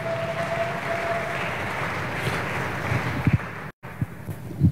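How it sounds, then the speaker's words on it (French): A church congregation applauds and cheers for Jesus Christ, producing a dense, steady roar of clapping and crowd noise that briefly drops out near the end before picking up again. "Vous pouvez acclamer pour Jésus-Christ."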